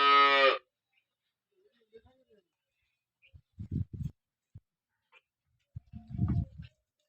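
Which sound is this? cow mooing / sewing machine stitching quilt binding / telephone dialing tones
cow mooing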